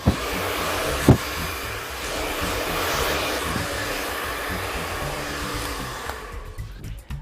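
A hair dryer blows steadily and loudly up close during a volume blow dry with a ceramic round brush, a continuous broadband whoosh with a couple of brief knocks, cutting off near the end.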